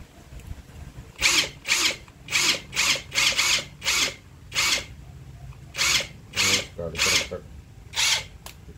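An APR AP126 Pro Max 1000 Nm cordless impact wrench fires in about a dozen short, loud hammering bursts with brief pauses between them, close by over a low background hum.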